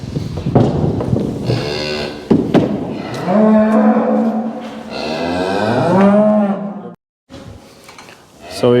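Cows separated from their calves during loading bawl repeatedly, a series of loud, drawn-out moos close by that overlap one another, with a brief gap of silence near the end before the calling resumes.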